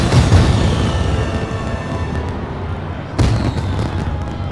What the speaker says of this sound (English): Liftoff, you've successfully developed a ship capable of flight.